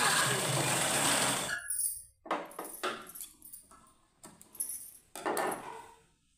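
A sewing machine stitches folded fabric in short bursts of whirring, the first run long and loud, then several brief starts and stops with small handling clatters in between.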